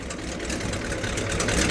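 A classic car engine idles loudly at a breakfast car meet at Heskin Hall, a continuous rough low rumble with steady exhaust texture, close by and without talk.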